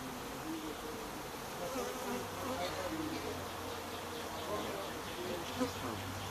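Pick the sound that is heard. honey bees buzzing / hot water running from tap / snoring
honey bees buzzing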